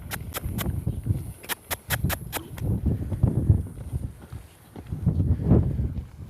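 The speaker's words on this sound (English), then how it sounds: "let's lope him in this direction" A trained horse loping in an arena, its hoofbeats thudding in a steady rhythm under rustling and low background noise, with a few sharp clicks early on.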